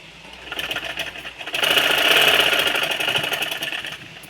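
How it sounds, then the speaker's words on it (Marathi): A sewing machine stitches a dress made from an old sari. A quieter start gives way to a loud, fast, steady mechanical whirring run of stitching that holds for several seconds and then eases slightly. "असं हे शिवून घ्यायचं."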